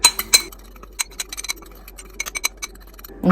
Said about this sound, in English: mix it in together really well